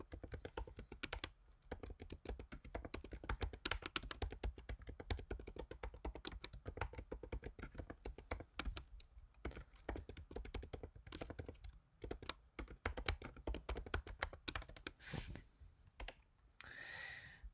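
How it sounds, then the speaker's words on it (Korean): Someone types R code on a computer keyboard in a rapid, steady stream of close, crisp key clicks, with short pauses near the end. "교재 464페이지에 있는 첫 번째 코드를 한번 타이핑해 보도록 하겠습니다"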